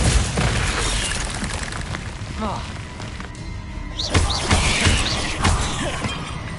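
Confringo explosive spell bursts in the Hogwarts Legacy game amid a fight with spiders in a house, loud booms and crackling blasts repeating over dense battle noise.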